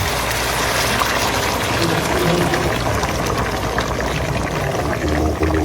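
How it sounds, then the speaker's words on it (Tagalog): Hot water pours into a seasoned mixture with a steady loud splashing rush, close and continuous, over a low background hum. "Lalagyan ko lang ng tubig na mainit."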